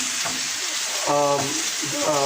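Diced marinated beef sears in a pan over high heat with a loud, constant sizzling hiss; a brief tonal squeak or voice-like sound rises briefly over the frying.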